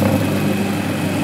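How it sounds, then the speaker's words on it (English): A bearing oil test machine lubricated with engine oil runs with a steady, droning hum and low rumble, constant and close, with no voices. "You can see the machine is roaring by the engine oil,"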